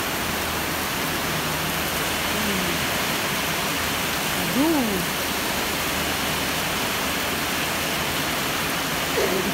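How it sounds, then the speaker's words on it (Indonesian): Dense, continuous hiss of heavy rain pouring down, with a person briefly exclaiming partway through. "Hujan besar nih."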